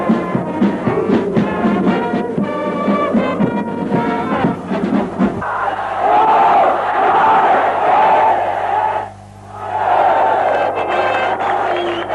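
A stadium crowd of about 18,000 at a 1995 Trinity versus Royal Bradby Shield school rugby match, a loud, continuous roar with rising chants and swells of cheering that briefly dips before surging again.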